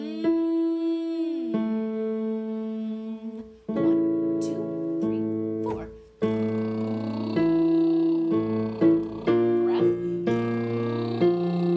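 A singer humming, sliding up and down in pitch, with sustained tones and stepped glides repeating over several phrases, heard alone at moderate volume.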